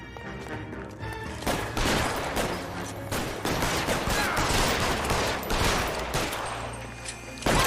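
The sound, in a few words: gunfire in the video game L.A. Noire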